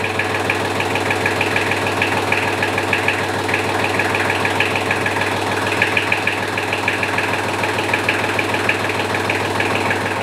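A diesel engine runs steadily and loudly throughout, with a continuous low rumble and a rapid knocking pulse at idle.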